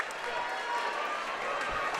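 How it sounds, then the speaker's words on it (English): A crowd and the team bench cheer in a high school basketball gymnasium, a steady, muffled roar with a commentator talking over it. "look at that response from the bench as well as from this loving crowd here"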